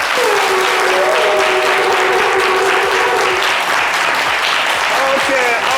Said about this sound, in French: Est-ce que vous pouvez vous applaudir bien fort?